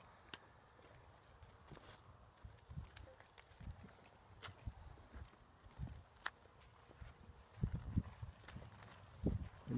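Horse hooves clip-clop at a slow walk during a horsemanship lesson, uneven soft thuds close by, with occasional talk nearby.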